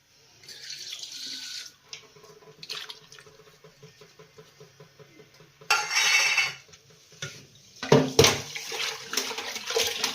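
Fish being washed by hand with rock salt and flour in a sink of water, with tap water running, splashing and sloshing, and dishes clinking, plus louder bursts of rinsing and pouring toward the end.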